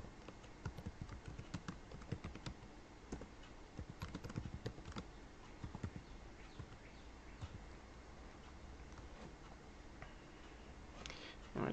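Faint, steady typing on a computer keyboard, rapid irregular key clicks running continuously with a slightly louder tap near the end.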